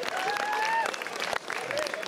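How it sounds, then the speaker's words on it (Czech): Audience applause at a midnight show during the village feast in Ořechov, a dense steady clatter of clapping with a sustained whistle over it, holding for about two seconds. "To si zatlouží veliký potlesk."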